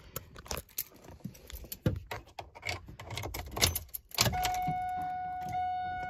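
A 2000 Pontiac Firebird Trans Am with an SLP exhaust, unrun for three weeks and started to warm up: clicks and clatter give way to the engine catching into a loud, steady idle drone.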